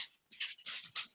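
A dog whimpers and whines softly at home in short, breathy bursts, close by and fairly quiet.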